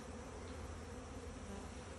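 A dense, continuous buzz of honeybees swarming around banana tree leaves, loud and close, with many wings droning together without a break.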